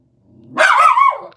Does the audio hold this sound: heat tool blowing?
no